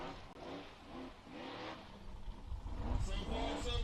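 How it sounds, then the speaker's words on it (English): A TC-built Ultra 4 style off-road racing buggy engine drones and revs on an off-road race course, swelling louder near the end beneath ongoing commentator talk. "This is another TC-built buggy out here."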